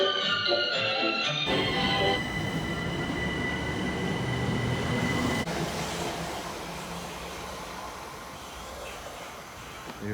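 A train passing close in open countryside, a broad roaring rumble with steady wheel noise and some high squeal, loud throughout and easing slightly as it moves away.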